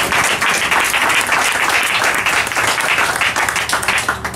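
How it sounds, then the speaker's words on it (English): A church congregation claps hands in praise, a dense and steady burst of applause from many people that carries on without a break, loud and close. "give the Lord a hand clap of praise"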